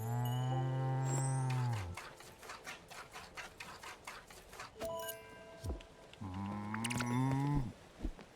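Cow mooing in the video game Spiritfarer: two long, loud moos, one at the start and one near the end, with a rapid mechanical ticking and clattering between them and no speech.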